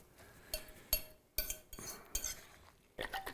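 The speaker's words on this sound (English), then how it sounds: "We're mixing up the egg" Egg being mixed in a bowl for potato latkes, a fork or whisk clinking and scraping against the bowl in irregular bursts, close and fairly quiet.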